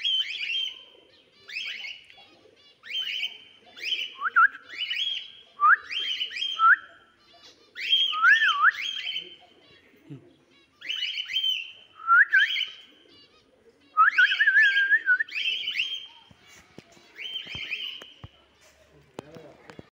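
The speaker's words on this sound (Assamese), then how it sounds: "এইকেইটা টুনি চৰাই তাতে বগা ভাটৌ আছে" Small tuni birds and boga bhatou call nearby in repeated bursts of sharp whistled chirps and trills, separated by short pauses, against an otherwise quiet background.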